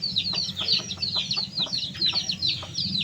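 Chickens clucking close by in quick, overlapping bursts while eating mango, with a steady low hum underneath.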